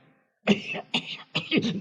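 A voice gives three short, rough coughs in quick succession, close up and fairly loud.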